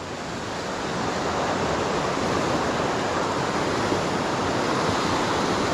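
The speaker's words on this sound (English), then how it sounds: "getting a good view of the river here and how fast it's flowing" Steady, dense rushing water of the River Derwent fills the whole clip, a continuous broadband roar of fast-flowing current with no voices.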